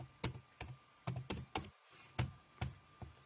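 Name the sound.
typing on a computer keyboard in the Windows search tab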